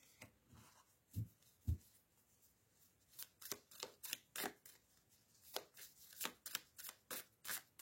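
Tarot cards are shuffled for a cross spread in a string of soft, papery riffles and slaps that quicken toward the end, close and quiet with no voices.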